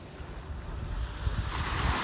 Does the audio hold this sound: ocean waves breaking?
yes